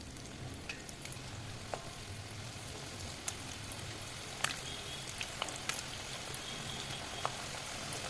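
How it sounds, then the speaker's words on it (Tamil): Rice flour bondas frying in hot oil in a kadai, giving a steady, even sizzle and crackle with scattered small pops, heard close and alone with no talking. "இப்போ கடாயில் எண்ணெய் ஊற்றி எண்ணெய் கொதித்ததும் ஒன்று ஒன்றா போட்டு எடுத்துட வேண்டியதான்"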